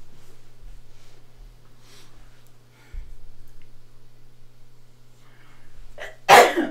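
A single sharp sneeze bursts out near the end, loud and close after several seconds of quiet room tone with a steady low hum and faint scattered noises.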